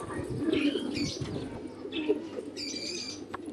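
Pigeons coo softly and steadily in a bush or hedge, with brief chirps and a light flutter mixed in, heard close by with no talking.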